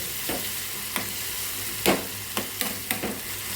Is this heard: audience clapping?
no